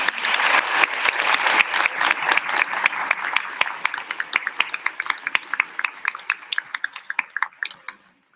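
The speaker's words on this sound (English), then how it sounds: "May I give them a round of applause." An audience at a senior awards ceremony breaks into applause, dense and loud at first, then thinning into scattered individual claps that fade out near the end.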